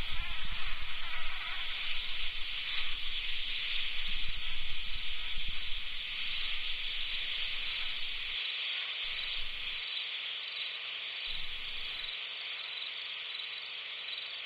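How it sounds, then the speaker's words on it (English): Continuous insect buzzing fills the scene in the video game Kentucky Route Zero, a steady high drone like mosquitoes or flies that drops out in brief gaps toward the end, loud and unbroken by talk. "That would be like bug noises."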